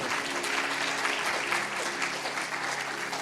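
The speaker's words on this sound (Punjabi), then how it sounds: "ਤਾਲੀ ਮਾਰੀਏ ਜ਼ੋਰ ਦੀ ਨਾਲ" Continuous applause fills a sermon gathering with Sant Sunder Lal Ji, a dense even wash of many hands clapping hard without pause.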